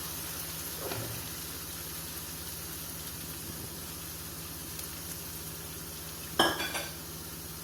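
Urad dal goes into fried masala in a pan and is stirred, a low steady sizzle with a few soft scrapes and one sharper clatter of utensil against the pan near the end.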